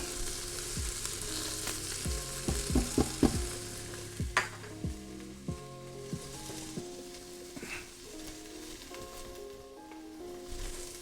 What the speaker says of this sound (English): Add the garlic. Let the garlic cook.